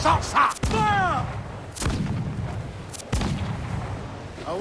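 Ship cannons firing in the naval combat of Assassin's Creed IV Black Flag: several loud, booming blasts spaced a second or more apart, mixed with shouted crew commands and battle noise.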